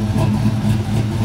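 Built 5.3-liter V8 truck engine running steadily after a tune, a loud, close, continuous low rumble with a slight wavering throb and no talk over it.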